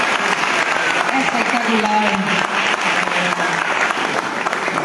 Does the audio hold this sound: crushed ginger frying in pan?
no